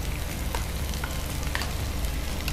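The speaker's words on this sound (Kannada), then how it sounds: "ಒಂದು ಕಾಯ್ತಾ ಇರುವಾಗ ಇನ್ನೊಂದು ಬೇಗ ಫ್ರೈ ಆಗಿ ಹೋಗಿರುತ್ತೆ" Food frying in a pan, likely a cabbage-based dish, gives a close, steady crackle and sizzle with scattered pops that run without pause and with no voices.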